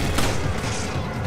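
Gunfire in the co-op video game Resident Evil 5 Remaster, a loud, dense burst of shots filling the whole clip with little pause.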